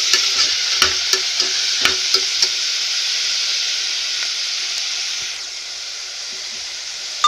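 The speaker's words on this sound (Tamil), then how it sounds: "நல்லா கத்திரிக்காய் வதங்கட்டும்." Eggplant (brinjal) pieces sizzle steadily in a hot pan for a South Indian brinjal rice, with a spoon scraping and stirring in sharp, irregular clacks over the constant frying hiss.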